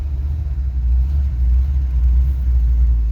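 Ford F100 truck engine idling after a carburetor rebuild, cold-running and backed out of a garage: a steady, loud low rumble that holds without a break.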